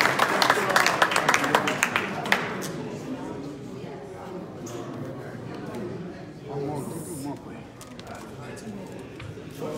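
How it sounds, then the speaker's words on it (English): An audience at a political fundraiser in Chicago breaks into a round of applause. Brisk clapping lasts a couple of seconds and then thins out as crowd murmur and talking take over. "A round of applause"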